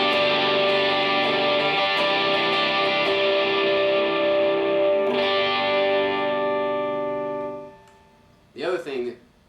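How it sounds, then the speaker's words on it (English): Distorted electric guitar playing sustained, heavily driven chords for worship music, loud and steady with a shift midway, then cutting off before a brief vocal-like burst near the end. "I'll throw some distortion in there."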